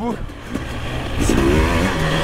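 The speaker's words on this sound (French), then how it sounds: "Et la moto, là, voilà, qui reprend bien. Avec un bruit un peu plus feutré." An enduro motorcycle running on a factory ECU picks up revs on a trail, its engine note rising and fairly muffled, while someone speaks over it.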